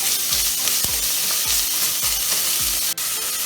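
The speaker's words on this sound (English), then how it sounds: "we're gonna add our bacon. Like I said, it's 6 strips of bacon. We're gonna put this in here and fry." Six strips of bacon fry in a pan for a Southern fried cabbage dish: a steady, close, bright sizzle with a few low knocks of the strips being moved, and no talking.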